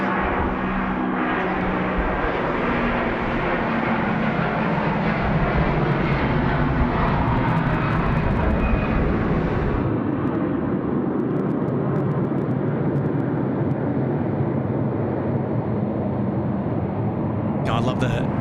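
A jet airliner landing at Sydney Airport at night roars loudly and steadily nearby, then the tone drops and settles as it slows, with voices and radio chatter underneath.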